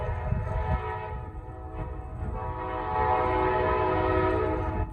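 A Norfolk Southern northbound freight train passes close by, its horn blaring in long sustained tones over a heavy rumbling roll of railcars and faint wheel clatter, growing louder toward the end.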